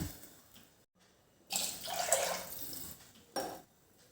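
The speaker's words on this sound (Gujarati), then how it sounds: "તો આપણે બીજું બે ગ્લાસ પાણી એડ કરીશું" Water from a glass is poured into oily, cooking masala for a green pigeon pea dhokli dish, giving a long splashing pour and then a short second splash, close and fairly quiet, with no speech.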